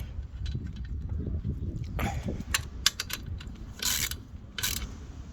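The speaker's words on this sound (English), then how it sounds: "so let's just tighten them back up." A hand ratchet tightens bolts on a motorcycle crash bar being fitted to a Triumph Thunderbird, giving quiet quick clicking bursts near the end over a low background hum.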